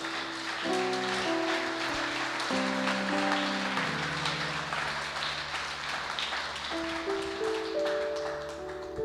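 A church congregation claps steadily in a continuous wash of applause, mixed with sustained keyboard chords that change pitch several times.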